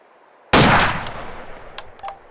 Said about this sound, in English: I'm going to aim for his chest this time, and I can probably guarantee you I'm going to miss this shot